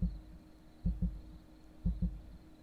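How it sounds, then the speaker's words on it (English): A heartbeat sound effect in the video game Dwarves, deep, close double thumps repeating in a slow, steady rhythm over a faint hum. "What's with the heartbeat?"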